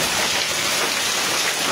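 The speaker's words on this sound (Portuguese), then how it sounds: "um temporal provocou uma forte chuva de granizo" Heavy hail and rain pounding down during a violent storm in Belmonte, Bahia, Brazil, heard from inside a garage as a dense, steady roar of impacts with no pauses.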